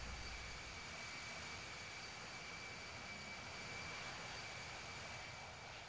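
A steady airplane engine drone from the Infinite Flight game on a flight over Cuba hums at a constant, quiet level throughout with a faint high whine and no speech.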